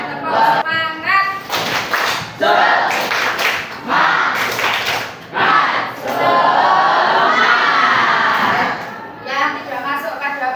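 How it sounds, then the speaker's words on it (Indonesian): Schoolchildren doing the 'tepuk semangat' clapping chant in a classroom, with rhythmic group claps and loud shouted voices overlapping in bursts and cheers for about ten seconds. "tepuk semangat"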